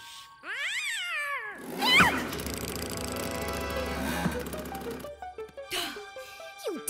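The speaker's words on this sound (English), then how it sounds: "You dumb cat!" A cartoon cat meows in high, sliding cries, then a loud burst of crashing, boinging noise follows, with a few more short sliding cat-like calls near the end.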